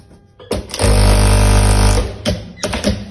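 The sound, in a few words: industrial flat sewing machine stitching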